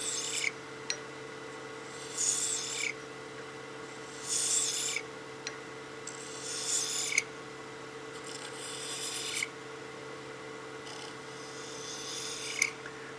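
Scraper tool cutting a honeycomb pen blank spinning on a wood lathe, with a steady motor hum beneath five or six bursts of rasping scraping, each lasting about a second, spaced evenly and fairly close.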